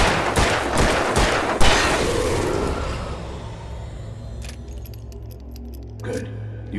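Gunfire in the video game Alan Wake Remastered: a few loud, sharp shots close together at the start, then the din fades into a quieter tail with faint metallic clinks and a low hum.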